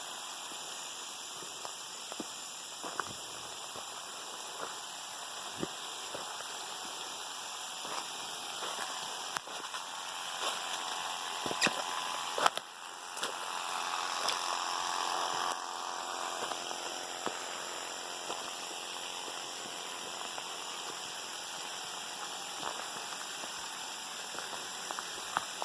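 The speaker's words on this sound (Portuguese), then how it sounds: "É a nossa agrofloresta tomando um pouquinho de água nessa tarde." Water spraying steadily across an agroforestry garden on an afternoon, a continuous hissing wash that rises and dips slightly as the spray shifts, with no talking.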